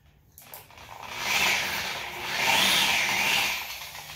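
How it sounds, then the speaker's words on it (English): A steady whirring, rubbing hum from a variable speed polisher at low speed buffing a hazy composite headlight swells and eases in two long passes, with no talking. "If you've got a variable speed polisher, your trigger there, you just want to take it pretty low speed."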